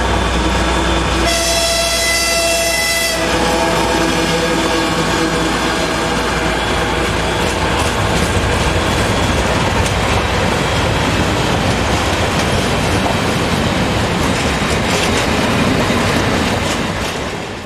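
A Czech Class 781 diesel locomotive hauling a train near Lichkov gives a sustained horn blast early on, then a steady rumble of engine and wheels rolling past at close range.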